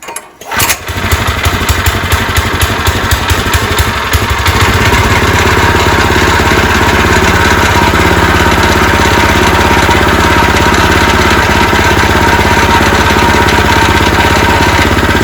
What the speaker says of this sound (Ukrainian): Заводимо мотоблок, він робить, прогрівається.